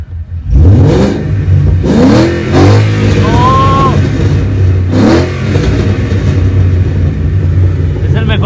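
A Ford Mustang SN95 engine revs hard several times in rising bursts, loud and close, with a steady rumble between revs.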